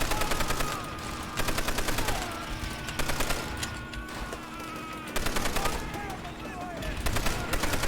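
Continuous heavy gunfire and artillery in Call of Duty: World at War, rapid machine-gun bursts under loud explosive thumps, with voices speaking over the battle throughout.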